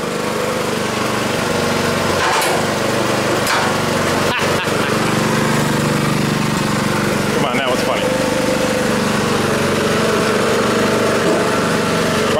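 A mechanical log splitter's small engine runs steadily nearby, a buzzy continuous drone with a few brief knocks and clunks over it.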